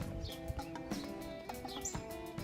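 Young farm chicks chirp in quick, high, overlapping peeps close by, over a steady low background hum, with no voices.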